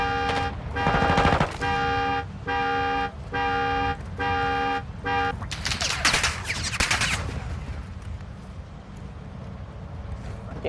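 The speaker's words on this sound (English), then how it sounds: "We're taking effective fire!" Rapid bursts of gunfire in Call of Duty: Modern Warfare 2 erupt after a run of steady, evenly pulsed electronic beeps, then fade into rumbling battle noise.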